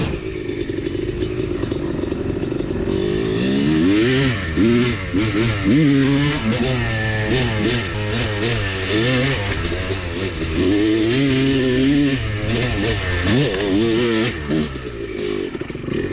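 Honda two-stroke dirt bike with the R/C power valve set up, engine heard from the rider's position while riding, revving up and down through the gears with rising and falling pitch, loud and continuous with some clatter.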